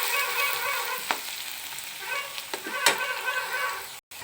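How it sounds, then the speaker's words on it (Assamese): Chili powder sizzles in hot oil in a home kitchen while a fish curry is cooked, a soft steady frying hiss with a few sharp crackles and stirring clicks. "আৰু ইয়াতে অকণমান মই দি দিছোঁ জলকীয়া গুড়ি। জলকীয়া গুড়িটো সদায় তেলত দিব লাগে"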